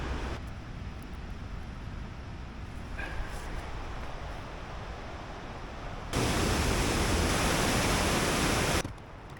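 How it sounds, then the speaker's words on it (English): The Jacob's Ladder river rapids in Canada give a constant broadband roar that suddenly swells louder for a few seconds before settling back. "So this set of rapids is called Jacob's Ladder, which sounds unrunnable."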